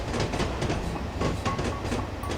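A steam train runs along the track in the Railworks 3 Train Simulator video game, with a steady rolling rumble and rhythmic clickety-clack of wheels over rail joints, loud and continuous.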